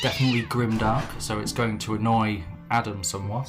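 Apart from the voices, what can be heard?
cat meowing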